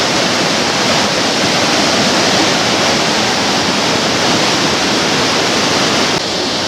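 Water of the River Kennet rushing through a weir at a salmon pass, a loud, steady, close roar of broadband noise that never lets up, with no voices.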